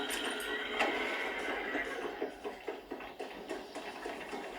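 A horse whinnies loudly near the start in the video game Red Dead Redemption, followed by soft, rhythmic hoof clip-clops moving along.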